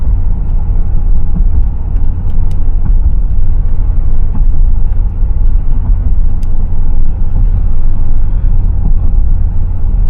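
Inside a car being driven, a steady low engine rumble and road drone fill the cabin, loud and continuous, with faint occasional clicks and no talking.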